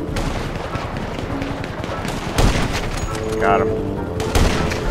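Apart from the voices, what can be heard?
sniper rifle gunfire in the video game GTA 5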